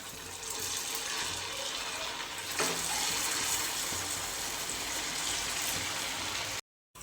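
Sabudana vadas fry in hot oil, a steady moderate bubbling hiss with one brief louder splash partway through before a sudden cut.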